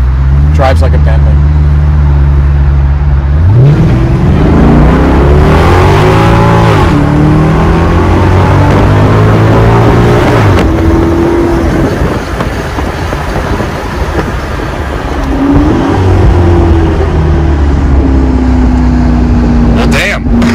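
A 2012 Maserati GT Convertible's 4.7-liter V8 engine rumbles loudly and close by, top down, revving up and down repeatedly with a deep throaty growl.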